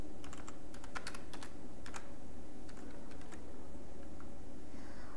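Someone types on a computer keyboard in bursts of quick, close, crisp key clicks over a steady background hum, and nobody speaks.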